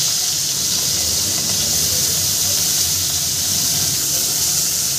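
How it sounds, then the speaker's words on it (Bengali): Chapila fish fry in mustard oil in a pan, a loud continuous sizzling hiss heard up close and steady throughout. "বাকি মাছটাও আমি সুন্দর করে ভেজে নেব।"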